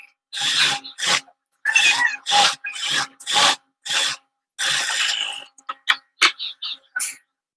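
Black cloth piping for a sewn gown is cut with scissors in a run of separate rasping snips, each short and close, with brief pauses between them and a few lighter clicks toward the end.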